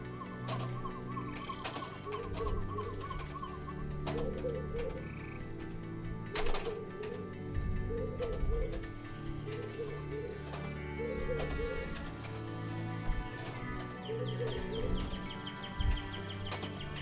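Hoopoe bird calls in a video game playfield, repeated soft hooting coos recurring in a steady rhythm over layered game music and ambient tones.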